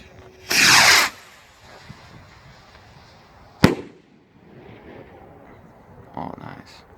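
Hellcat firework rocket launching with a loud rushing whoosh, then a sharp crack of the burst a few seconds later, followed by faint crackling; moderately distant, outdoors, with no talk.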